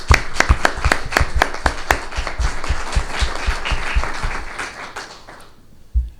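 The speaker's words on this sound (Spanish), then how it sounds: "este aplauso se lo dedicamos a Niceto Alcalá Zamora y Castillo," An audience at a book presentation breaks into warm applause, dense clapping with sharp individual claps that carries on for about five seconds before fading to a few last claps.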